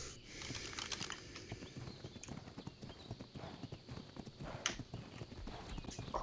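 Hooves of a horse in the survival game ARK Survival Evolved clip-clop in quick, uneven steps at low volume under faint game ambience and some keyboard tapping.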